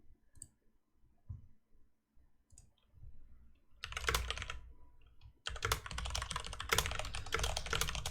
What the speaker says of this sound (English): As you listen to some keyboard ASMR